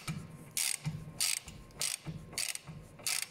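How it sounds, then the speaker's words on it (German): A ratchet loosens the sway bar link bolt on a Skoda Octavia 1.8T during front wheel bearing work, giving a series of quick, close clicking bursts in an even back-and-forth rhythm, about five strokes, with no talk. "Als nächstes lösen wir uns jetzt hier die Schraube von der Koppelstange."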